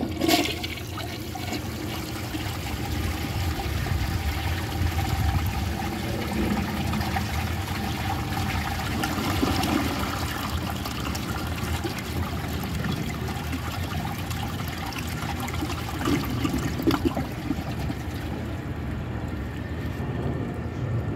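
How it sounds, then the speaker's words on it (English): A 1963 Chicago Potteries toilet fitted with a generic flapper flushes with a loud, close rush of water that swirls and drains for several seconds, then trickles as the tank refills, with no talking. "So let's give it a flush and see how it does."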